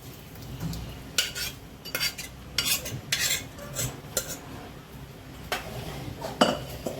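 A spoon scrapes and clinks against a metal pot of dal makhani in irregular bursts, with a soft bubbling, sizzling background; no voices.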